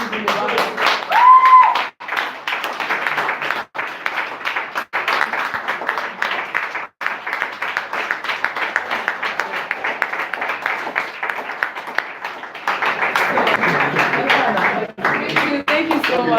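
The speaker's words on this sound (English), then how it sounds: "so please do give him a round of applause." Sustained audience applause fills a hall at a tech education meetup in Lagos, loud and steady with dense clapping from many hands, briefly dipping and then swelling again near the end.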